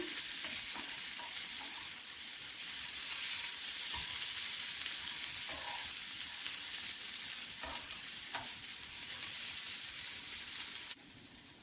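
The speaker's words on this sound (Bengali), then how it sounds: "দুই তিন মিনিট নেড়ে ছেড়ে ভালো করে বেজে নেবো" Dal filling for rolls is stir-fried in a pan, with a continuous soft sizzle under occasional spatula scrapes and taps, steady and close, ending abruptly near the finish; no talking.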